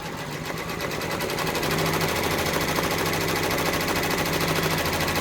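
A multi-needle embroidery machine rapidly stitching out a freestanding bridge piece, a fast steady mechanical chatter of needle strokes, loud and continuous throughout with no talking.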